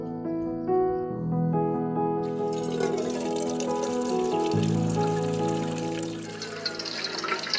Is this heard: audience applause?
no